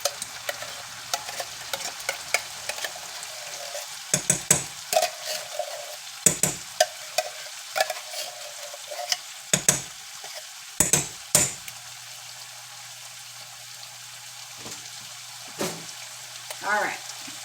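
Steak-umm slices fry in a pan with a low, faint sizzle, broken by sharp scrapes and clatters of a utensil against the pan, with someone talking now and then.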